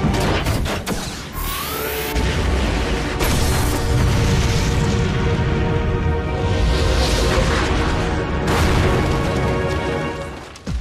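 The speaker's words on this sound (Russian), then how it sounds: "Пушка Авана взорвалась?" Loud cartoon battle noise: a cannon explodes with a booming blast, crashing, rumbling debris and sharp bursts, continuing in a long chaotic roar before cutting off.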